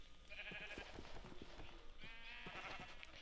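A sheep in a survival video game bleats twice, two drawn-out wavering calls, fairly close and clear over a low background, with no talking.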